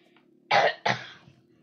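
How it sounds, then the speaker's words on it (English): Two quick, fairly quiet coughs from one person in a room, the first sharper and the second trailing off into a throaty rasp. "Sorry, I've got a cough."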